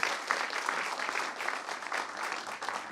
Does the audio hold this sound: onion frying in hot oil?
no